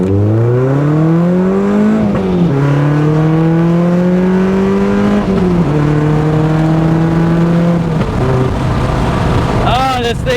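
Engine of a Mazda NC Miata on a test drive, loud and close, revving up through gears with repeated rising pitch sweeps and shifts, wind noise throughout.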